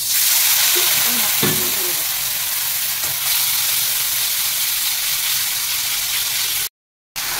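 Coriander and cumin masala sizzles steadily in a hot pan after a splash of water, a loud continuous hiss with a few stirring clanks early on, cut by a brief gap near the end.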